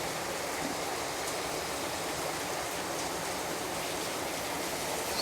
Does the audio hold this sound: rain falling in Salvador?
yes